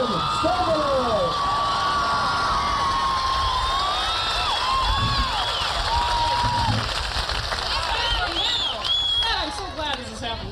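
Comedy show audience cheering and applauding for a comedian, a loud, continuous wall of whoops, shouts and clapping that holds steady for several seconds before thinning toward the end.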